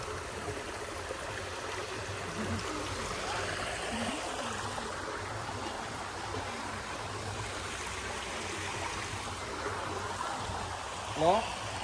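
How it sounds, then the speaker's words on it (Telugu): Continuous rushing water gushes steadily from a pipe at a spring near Tirumala, a dense broadband wash close by, with a brief louder splash near the end. "ఇక్కడ ఒక పైప్ పెట్టి వాటర్ అయితే వస్తున్నాయి"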